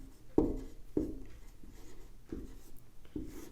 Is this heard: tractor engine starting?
no